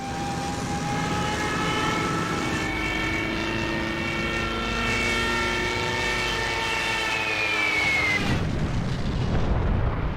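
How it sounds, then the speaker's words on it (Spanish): Loud, continuous roar of Stuka dive bomber engines from 1940 wartime footage of the attack on France, a heavy droning propeller sound with a rising whine, ending abruptly near the end. "Los Stukas añaden a su precisión diabólica el terrible estruendo de sus motores."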